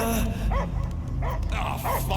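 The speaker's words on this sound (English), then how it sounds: "I hear only barking." A dog barks and yips in short bursts in the Guardians of the Galaxy video game, the barks mixed with game music and effects.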